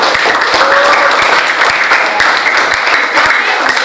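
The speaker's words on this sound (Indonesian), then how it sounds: "Oke, tepuk tangan buat kita semua." Dense, steady applause from a classroom of students fills the whole stretch, with no pauses in the clapping.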